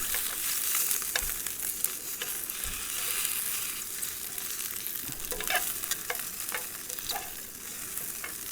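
Sausages and onions frying on a camp stove turned low, a steady close hiss and sizzle with occasional crackles and utensil scrapes, no talk.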